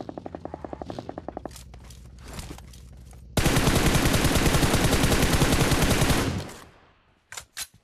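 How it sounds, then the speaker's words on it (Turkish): Gunfire in the mobile battle-royale game PUBG Mobile: a dense, loud burst of sustained automatic fire for about three seconds, preceded by quieter rapid shots and followed by a couple of sharp isolated cracks. "Bak açıktan sıkıyor bana."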